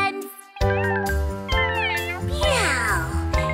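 Several cat meows with sliding, rising and falling pitch ring out in a row, set inside a bright, bouncy Pororo children's song with music playing underneath.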